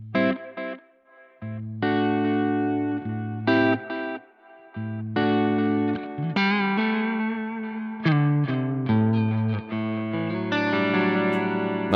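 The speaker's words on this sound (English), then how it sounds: "dial in a healthy amount of delay, just so we can hear it" Electric guitar through a Neural DSP Nano Cortex with ping-pong delay: distorted chords and single notes repeat as echoing trails bouncing after each phrase, with reverb, loud and steady with no talking.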